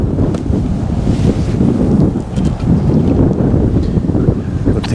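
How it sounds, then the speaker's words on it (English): Strong wind buffets the microphone at a match-fishing lake, a steady, loud rumbling roar with gusty surges that runs through the whole stretch with no other sounds standing out. "This wind's getting really strong now."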